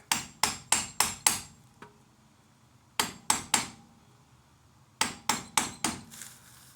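Three bursts of quick, sharp metallic hammer taps lightly driving in a part during a speedway car four-bar front suspension install, about five evenly spaced strikes each, separated by short pauses, close and fairly loud.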